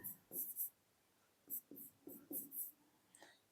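Chalk or marker writing on a classroom board during a Class 9 geometry lesson, a few short scratchy strokes in separate bursts, close and fairly faint, with soft talk between them.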